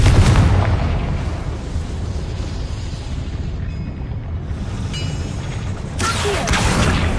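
A Confringo explosion spell cast in Hogwarts Legacy produces a loud, sustained roaring burst with a low rumbling tail, followed near the end by a fresh sharp blast; no one speaks.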